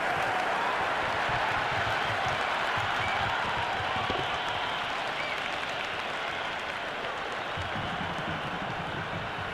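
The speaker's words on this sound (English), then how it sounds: "It's almost palpable, the excitement emanating from this crowd at the moment." At a T20 cricket semi-final between Pakistan and South Africa, a large stadium crowd cheers and applauds after a six, a continuous roaring wash of noise that holds steady throughout.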